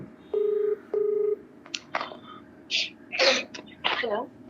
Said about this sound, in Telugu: అదండి, ఒకసారి కాల్ చేస్తానండి